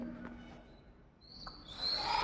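A racing pigeon gives a low, soft coo close by, with faint chirps and rustling as the clip goes on.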